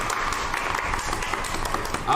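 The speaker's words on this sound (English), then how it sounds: "Let's give them a round of applause." Steady applause from participants at an online international youth camp session, a dense continuous patter of clapping mixed with crowd voices throughout.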